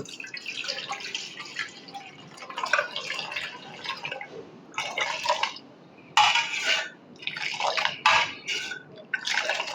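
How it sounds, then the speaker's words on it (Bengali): Cooled milk for mango doi is poured from one pot into another, making close splashing and trickling bursts in several pours separated by short pauses. "এখন আমি অন্য একটা পাত্রের মধ্যে দুধটাকে ঢেলে নেব"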